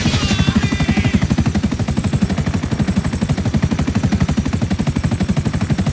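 A helicopter in GTA V with a loud, steady rotor chop that pulses rapidly and evenly throughout, accompanied by a brief whistling tone at the start and no talk.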